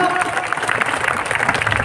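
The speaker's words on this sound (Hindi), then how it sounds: "उस राष्ट्रपति के लिए भी जोरदार तालियां बजाइए" Applause breaks out at a Sikar religious gathering after a call to clap loudly for the President, a steady dense patter of many hands with crowd voices and a faint tone mixed in.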